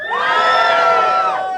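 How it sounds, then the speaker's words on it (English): A comedy club audience cheers loudly, a dense burst of shouting and whooping voices that swells fast, holds for over a second, then cuts off. "Give me a cheer if you're younger than 30."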